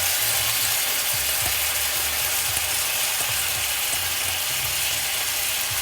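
Rice being stirred in a hot pan with ginger and garlic, a constant loud sizzle overlaid by rhythmic scraping and rattling strokes of a utensil across the pan, close and uninterrupted.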